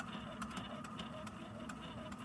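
A sewing machine running a short backstitch to lock the end of a seam, a steady mechanical whirring hum with faint rhythmic clicks, close and continuous.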